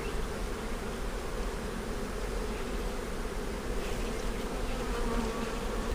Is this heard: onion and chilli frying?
no